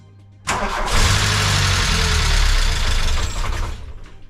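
A VW Golf Mk1 engine cranks hard and tries to catch, a loud, sputtering mechanical churn that begins abruptly and fades slightly at the end, heard up close.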